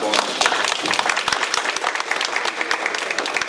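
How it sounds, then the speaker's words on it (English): A crowd at a village meeting gives the board a hearty round of applause, dense and loud clapping that continues steadily throughout with a few voices mixed in. "I think you all ought to give them a big round of applause."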